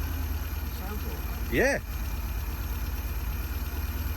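An old car's engine idles with a steady low rumble throughout, close and continuous, with a single brief spoken word partway through.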